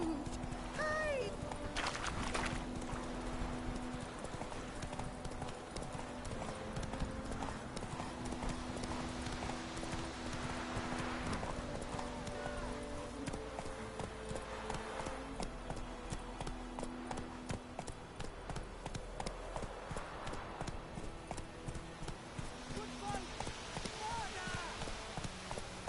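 Hooves of a galloping horse in The Witcher 3 video game beat in a steady rapid clip-clop rhythm throughout, with occasional whinnies and game sounds mixed in.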